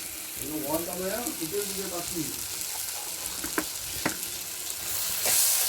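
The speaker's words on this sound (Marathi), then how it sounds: "आणि हे मीठ टाकल्यानंतर देखील चांगलं परतवून घ्यायचं आहे जेणेकरून सर्व एकजीव होईल" Wet kolim (acetes) mixture with salt being stir-fried in a pan over a wood-fired stove, a continuous bright sizzle broken by a few sharp scrapes as it is turned.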